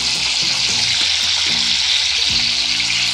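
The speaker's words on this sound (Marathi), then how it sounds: "आता भाजीला फोडणी घालूयात।" Cumin and finely chopped tomato sizzle steadily in hot oil during tempering for vatana usal, a close, continuous hiss with a few low knocks from the pan, no talk.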